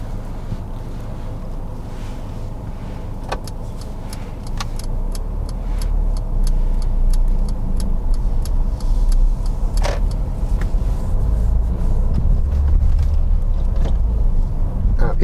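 A car pulls away during a mock driving test. A low engine rumble builds as it moves off, with wind buffeting and a steady ticking, like an indicator, clicking through the cabin.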